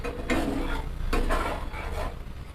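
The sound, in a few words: stirring fish curry after adding water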